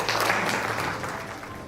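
Audience applause at a church opening ceremony, a dense continuous roar of clapping from a large crowd, loud at first and tapering slightly over a short stretch.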